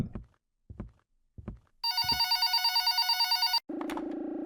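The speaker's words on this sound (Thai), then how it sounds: "พร้อมกับเสียงโทรศัพท์ที่ดังขึ้น" A telephone rings in the dark room at the start of the video game Just Cleaning, a steady electronic ring lasting under two seconds after a few soft footsteps, then a lower buzzing tone.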